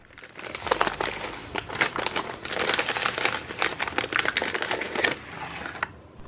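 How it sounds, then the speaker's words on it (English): Newspaper crumples and crinkles continuously at close range as household items are rolled up in it for packing before a move, a dense, busy rustling that stops abruptly near the end. "with everything, I rolled it up into newspaper"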